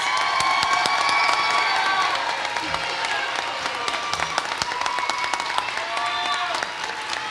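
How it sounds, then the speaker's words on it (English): Sustained applause and cheering from a large crowd honoring graduates at a community college adult education ceremony, a dense steady wash of clapping with scattered shouts that eases slightly toward the end. "big hand of applause for our graduates"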